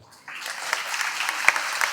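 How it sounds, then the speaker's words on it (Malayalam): An audience claps for a singer at a small gathering, applause starting after a brief pause and continuing steadily, moderately loud and fairly close, with a few sharper claps standing out. "കയ്യടി കൈയടിക്കണം എന്നാലേ ഞാൻ പാടത്തുള്ളൂ"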